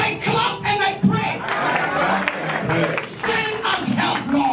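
A congregation claps and prays aloud together on a national day of prayer, loud crowd voices mixed with bursts of hand clapping, dense and energetic throughout.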